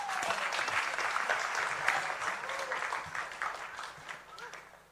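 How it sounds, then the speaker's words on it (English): Audience at an East African music summit claps loudly and continuously for a performer, dense steady applause with some voices mixed in, fading slightly toward the end. "Clap for him"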